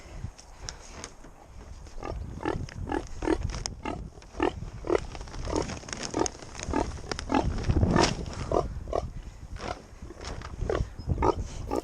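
Pigs grunting repeatedly in short, rough bursts, fairly close, outside on a farm in the rain and cold, with a continuous noisy background and no talking.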